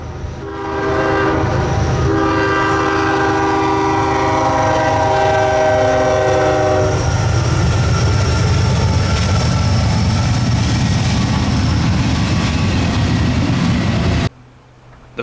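A loud Kansas City Southern freight train roars past close by in winter snow, a long horn blast sounding over the rumble early on, then steady rolling wheel noise until it cuts off.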